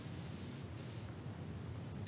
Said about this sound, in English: so I'll just spray it.